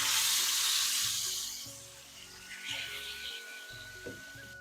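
Sor puti fish frying in mustard oil in a pan, giving a soft, steady sizzle and hiss throughout with faint stirring, heard alone and fairly quiet.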